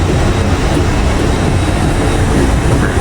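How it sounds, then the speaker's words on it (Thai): A loud, steady rumble of a train fills a platform at King's Cross railway station in London, a constant roar of rail noise without any talking. "นี่คือชานชาลาในสถานีรถไฟคิงครอสนะครับ"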